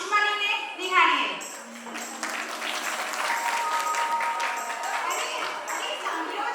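Applause from an audience at a stage performance rises after a few voices and continues as a steady, fairly distant patter of clapping for several seconds.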